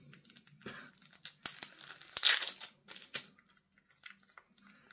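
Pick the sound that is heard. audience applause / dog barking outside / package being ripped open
package being ripped open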